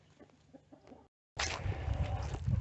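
Hens and a rooster cluck in a farm pen, quiet scattered clucks at first, then a short silence, then louder, busier clucking and scratching from nearby birds.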